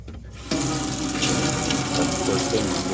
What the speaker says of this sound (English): I'm gonna drain all the water.